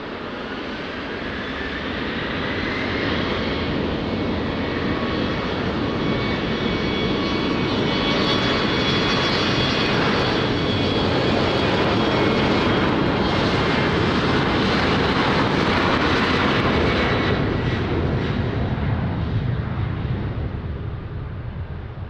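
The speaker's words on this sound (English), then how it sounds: "Runway 20, clear for takeoff" An airliner takes off from runway 20 at Lisbon Airport, its engines a loud broadband roar that swells and holds steady for the whole stretch before easing slightly at the end.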